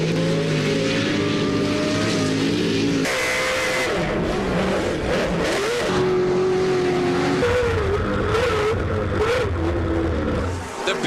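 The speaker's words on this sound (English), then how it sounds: "Listen to those engines roar." Off-road Pro 2WD racing truck engines roar and rev loudly, pitch climbing and dropping as the trucks accelerate, with occasional tire squeals and no talking.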